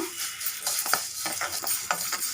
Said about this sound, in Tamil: பூண்டையும் நல்லா ஃப்ரை பண்ணிக்கோங்க